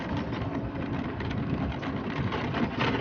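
An Ola electric scooter riding on a rough road on throttle alone gives a steady, loud rush of road and wind noise with low rumble throughout, and no voices.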